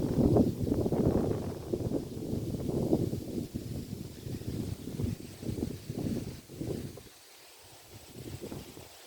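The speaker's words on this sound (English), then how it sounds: "I like watching the wind blow." Gusty wind blowing through an outdoor garden, a loud rumbling rush that buffets the microphone in uneven waves, easing briefly near the end before picking up again.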